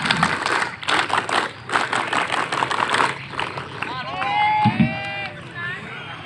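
An assembled crowd at a scout jamboree opening in Wajo, Indonesia performs the rhythmic scout clap, quick claps mixed with chanting voices, then breaks into whistles and cheering.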